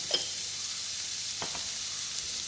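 Vegetables cooking in a pan with a little salt, a faint, even hiss of sautéing with a couple of brief scrapes from stirring.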